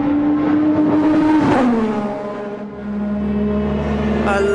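Ayrton Senna's McLaren MP4/5B race car, driven by Lewis Hamilton at Interlagos, revs loud and close: a high, sustained engine whine that dips, then climbs again as the throttle reopens.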